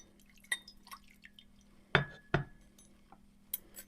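Water is poured over seeds in a container during a rinse, giving sparse drips, splashes and two sharp glassy clinks against a quiet background.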